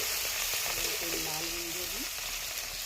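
Garlic, chili and fenugreek frying in a pan for a homestyle Chhattisgarhi dish, giving a steady close hiss and sizzle, with a faint voice-like tone passing briefly underneath.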